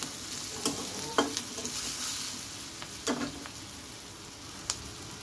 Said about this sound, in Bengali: হলুদ ভেজে নেব, সুন্দর করে পেঁয়াজগুলো ভাজলে টেস্টি হবে।